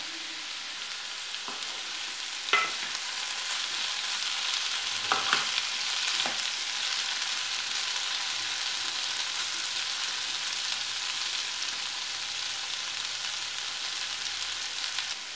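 Koorka (Chinese potato) being stir-fried uncovered in an open pan after its cooking water has evaporated, giving a steady soft sizzle throughout with a few brief scraping stirs near the start and no talk.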